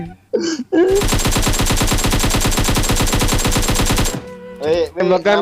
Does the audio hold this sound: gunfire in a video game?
yes